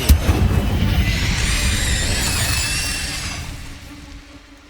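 The Incendio fire spell is cast in the video game Hogwarts Legacy: a booming whoosh with crackling bursts swells for about three seconds, then fades into a low rumble.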